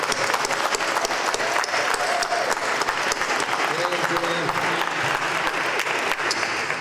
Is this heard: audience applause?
yes